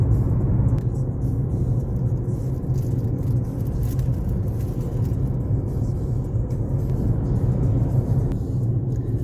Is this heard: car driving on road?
yes